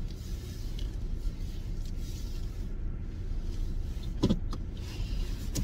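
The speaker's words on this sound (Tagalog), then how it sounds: "So mag-drive na tayo papunta sa trabaho, guys." Car interior on a drive to work in cold, snowy weather: a steady low engine and road rumble fills the cabin throughout, with a brief mechanical whir near the end.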